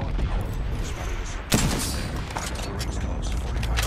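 Combat in an online shooter video game is dense and noisy, with a sharp grenade blast cracking out midway through the constant roar of gunfire and rumble.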